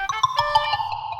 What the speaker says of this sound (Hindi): ये बावरी जी बार बार फोन कर रहे हैं, लगता है कोई जरूरी बात होगी।